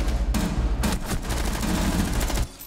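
Rapid bursts of close gunfire in Rainbow Six Siege, a player firing on opponents at close range: loud, fast sharp shots in quick clusters that cut off abruptly near the end.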